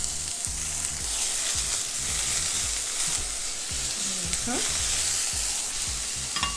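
Green onions sautéing in a pan for rasta pasta, giving a continuous close sizzle with rhythmic scrapes and stirring clatter of a utensil.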